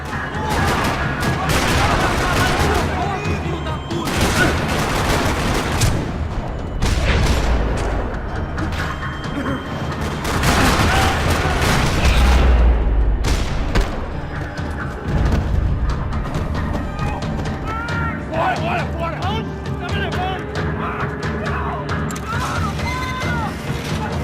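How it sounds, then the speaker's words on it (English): Rapid bursts of gunfire and booms echo continuously through a parking lot in the video game Max Payne 3, with crashes and mechanical clatter mixed in, loud and sustained. "Another parking lot rattling with gunfire."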